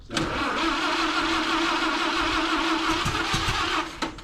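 A Model A Ford engine cranks steadily for about four seconds without catching, a loud, continuous mechanical churn that cuts off near the end, with no voices.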